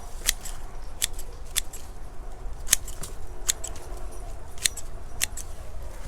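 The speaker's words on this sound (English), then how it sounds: "So I'm going to cut so they just have some long stems coming off of them." Scissors snip begonia stems, cutting away the leafy, flowery top growth: a string of about ten crisp, sharp cuts at a fairly even pace, close and clear over a quiet background.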